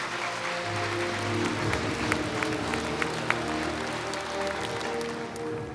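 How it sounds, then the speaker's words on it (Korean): Sustained audience applause at a Buddhist Seongdo-jaeil dharma assembly in Busan, a dense wash of clapping at steady loudness with a few sharper claps and some crowd murmur underneath. "다시 한번 큰 박수 한번 부탁드립니다."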